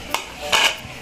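Crushing chili and spices in a bowl for spiced vinegar, with a brief knock followed by a longer grinding scrape against the bowl, close and fairly loud, no talking.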